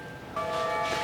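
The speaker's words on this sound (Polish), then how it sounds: "To, co słyszycie, naprawdę nie jest żadną podłożoną ścieżką dźwiękową, tylko jest tymi dzwoneczkami." Small temple bells ring out suddenly after a brief quiet moment, their bright overlapping tones shimmering and sustaining close by.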